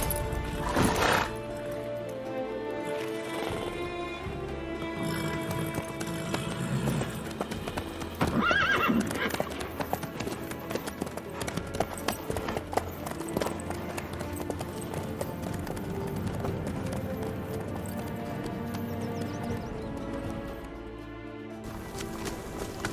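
A horse in The Witcher 3 video game gallops with loud, rhythmic hoofbeats and lets out a whinny partway through, the hooves pounding on over a game soundtrack.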